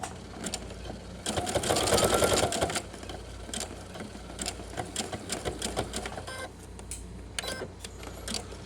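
A sewing machine stitches fabric over wire for a hat, running in fast mechanical bursts with a louder stretch early on, then shorter intermittent runs of rattling needle strokes, close and alone.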